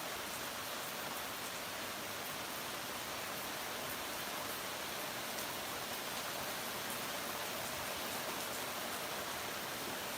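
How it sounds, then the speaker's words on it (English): Heavy rain falls steadily and hard, a dense, constant hiss close by with no breaks and no voices. "Raining harder."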